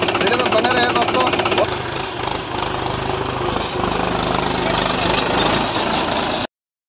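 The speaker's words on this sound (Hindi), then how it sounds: "इस तरह से हम घुमा रहे हैं ट्रैक्टर और माड़ा दे रहे हैं" A tractor engine drones loudly and steadily as it turns during paddy threshing on a farm, with a voice talking over the continuous rumble.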